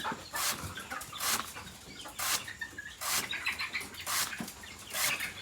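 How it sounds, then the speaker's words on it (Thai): Chickens cluck at a farm pond in the evening, giving short, fairly faint bursts of clucking that recur roughly every second against quiet outdoor background noise. "นี่ก็จะเป็นไก่ค่ะ"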